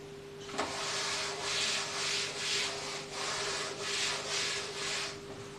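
A felt duster wipes chalk off a blackboard in a chemistry classroom, giving about seven rhythmic, close, steady rubbing strokes with a soft, dry scrubbing texture and no talking.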